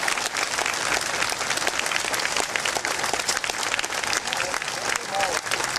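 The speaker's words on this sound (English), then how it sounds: "Let's give all of those soldiers a big round of applause" A crowd at a Salute to Freedom event gives soldiers a big round of applause, with dense, continuous clapping from many hands that is loud and sustained throughout.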